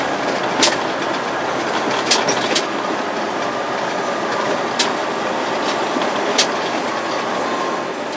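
Steady rumbling of a train rolling along rails in a rail yard, with a few sharp metallic clicks scattered through the continuous noise, no voices.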